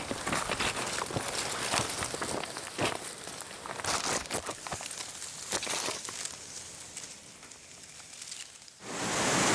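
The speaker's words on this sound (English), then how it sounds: "It's actually starting to rain." Rain beginning to fall in a dry forest, a dense irregular patter of drops on leaves and ground, steady and close, with scattered crinkly crackles throughout.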